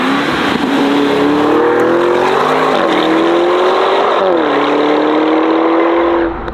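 A Novitec Lamborghini Urus S Esteso widebody SUV drives hard on a tarmac road, its engine loud and steady with rising and falling tones as it shifts through gears, continuous and close throughout.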